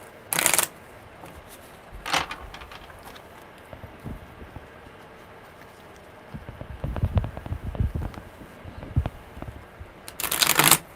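Tarot cards being shuffled, with sharp bursts of riffling at the start, middle and end and softer rustling and tapping between, close by and without speech.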